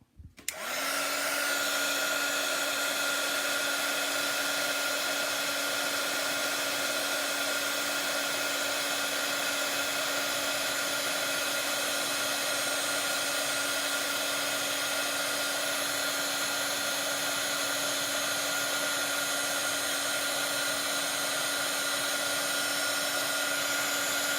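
Heat gun running continuously at close range while melting embossing powder, a steady loud whirring blower tone with a high whine, unbroken from start to finish with no talking.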